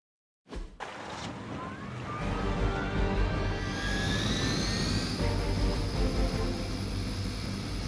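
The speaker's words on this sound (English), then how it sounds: "We need to disable the Hydra helicopter before it can depart" In the video game Marvel's Midnight Suns, a Hydra helicopter's engine roars in suddenly after brief silence and holds a loud, steady whine and rumble, rising in pitch as it spools up.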